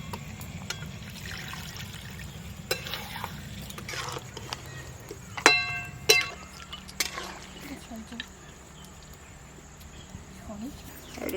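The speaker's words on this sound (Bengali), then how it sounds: "এবারে জল দিয়ে দেবো।" Water is poured into chicken and cauliflower curry cooking in a pan, a splashing trickle with a few metallic clinks, followed by quieter moments.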